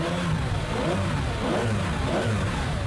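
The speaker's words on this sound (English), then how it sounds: "Because to listen to that V12 in the back" Ferrari Enzo V12 engine running under load, a continuous loud, rich mechanical roar with gently rising and falling pitch, close and steady throughout with no voices.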